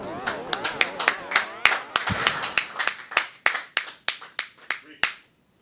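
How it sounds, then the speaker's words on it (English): Applause at a speedrunning event after a Super Mario World run: sharp, distinct hand claps in a steady rhythm that thin out and slow before stopping, with talking around them. "I did not deserve applause."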